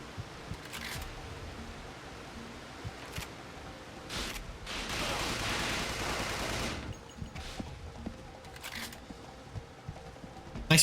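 Gunfire in Resident Evil: The Darkside Chronicles: bursts of shots crackle over a steady game background, with a longer dense volley in the middle and scattered single reports on either side, no speech.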